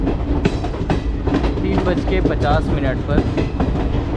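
The Haldibari Kolkata Superfast Intercity Express running on rails after departure, a loud continuous rumble with rhythmic clickety-clack of the wheels, while a voice speaks over it.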